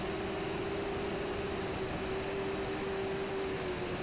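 A Syma X11C quadcopter drone's small motors whine steadily in flight, a sustained even tone over a constant background hiss with a slight pitch drop near the end.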